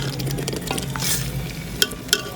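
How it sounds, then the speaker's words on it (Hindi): Beef karahi cooking in a pan gives a steady close sizzle and frying hiss with soft stirring scrapes, and two brief clinks near the end; nobody speaks. "ये थोड़ा सा आंच करके थोड़ा सा इसको भूनना है"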